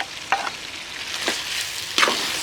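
Masala fries in a pan for a Nellore tiger prawn and gongura dish, a steady sizzle broken by three sharp scraping stirs of a spoon against the pan.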